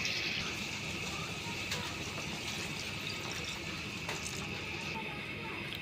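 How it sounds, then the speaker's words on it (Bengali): Water poured into a pot of meat curry after the meat has been browned, in a village kitchen; a steady, continuous splashing hiss runs throughout at moderate level, with no talk. "এখন অল্প একটু পানি দিয়ে দিব।"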